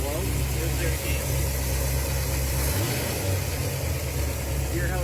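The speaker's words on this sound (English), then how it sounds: "Hear how it takes a second to idle back down?" A Ford Galaxie's carburetted engine settles from a rev back toward idle, a steady, close low rumble with a slight dip partway through, while people talk nearby.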